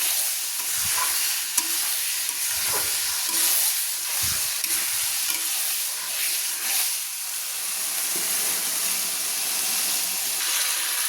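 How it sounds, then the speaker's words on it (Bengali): Marinated meat is stirred in a cooking pot for a papaya and hajari kosha dish, a steady close sizzle and hiss with repeated low scraping strokes of a spoon against the pot, no talking. "দিয়ে আমি ভালো করে নেড়ে নিচ্ছি।"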